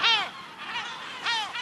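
A gull gives its alarm call against intruders, several loud, harsh, high-pitched cries in short bursts, the first right at the start and another pair near the end, with a fainter cry between.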